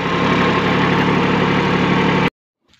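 A tractor engine idles close by with a steady, loud, throbbing rumble that cuts off abruptly, followed by near silence.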